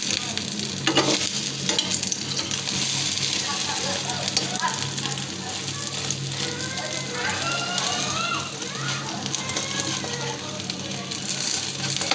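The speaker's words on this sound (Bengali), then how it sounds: "আমি এপিট ওপিট করে ডিমগুলোকে ভেজে নিলাম।" Eggs frying in a pan and being turned over, a dense continuous loud sizzle with crackling spatter, close up, and scraping turns heard throughout while a voice talks faintly underneath.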